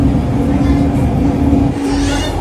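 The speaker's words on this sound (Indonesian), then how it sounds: "kita udah nyampe di stasiun LRT Jabodebek Taman Mini" LRT Jabodebek light rail train pulling into Taman Mini station, a steady close rumble of the car with a sustained tonal hum, heard from inside under faint talk.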